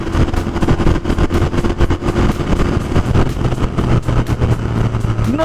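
Royal Enfield Continental GT 650 parallel-twin cafe racer engine pulling hard under throttle on the road, a steady loud rumble with a low drone that shifts pitch slightly midway, close and continuous with no voices.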